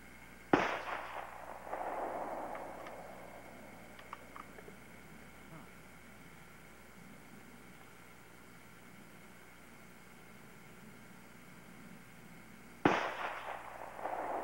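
Gunshots fired at a target with hollow point rounds outdoors, two sharp loud cracks about twelve seconds apart with quiet ambience and brief distant voices between them.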